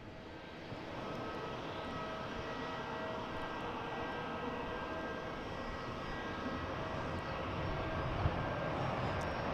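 A Japan Airlines Boeing 787-9 Dreamliner arriving from Tokyo Narita at Boston Logan airport sends out a steady, broad jet-engine roar that swells slightly toward the end, heard from a distance with no talking.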